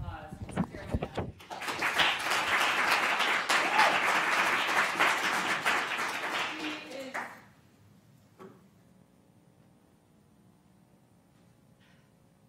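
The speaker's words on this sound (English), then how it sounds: "let's give a huge round of applause to Carol" Audience at a plenary speech event breaking into loud sustained applause for a speaker, building quickly, holding for several seconds, then dying away into a quiet room with faint shuffles and a brief knock.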